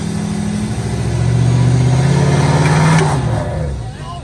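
A Ram SEMA truck rumbles loudly through a burnout, its deep engine note rising and holding, then dropping off as the revs fall, with a brief high scraping hiss near the end.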